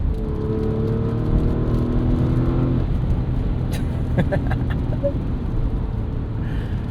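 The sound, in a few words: Porsche Cayenne S V8 engine driving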